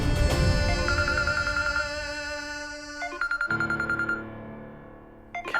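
A mobile phone rings with a repeating electronic melody of bright tones, close and clear, shifting partway through the phrase as the tune continues without voices.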